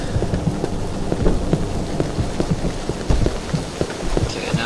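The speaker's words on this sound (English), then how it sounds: "Now it's raining!" Steady heavy rain pours down with low rumbling thunder in the horror video game Cry of Fear, a continuous dense downpour with scattered deeper rolls throughout.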